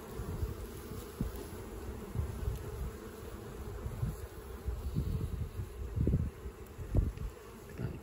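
A dense, steady hum of honeybees buzzing close by in an open hive during inspection, with scattered low thumps and rustles underneath throughout.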